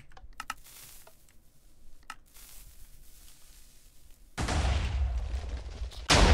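A redstone TNT cannon fires in Minecraft, beginning with light clicks of redstone mechanisms, then a loud sustained blast roar and a second burst at the end.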